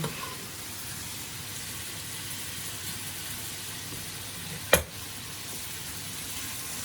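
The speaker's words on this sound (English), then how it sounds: "Bacon lardons, and we're going to fry them off" Bacon lardons with chopped onions and garlic frying in a pan give a steady, soft broadband sizzle throughout, broken once by a single sharp utensil knock near the end; no talking.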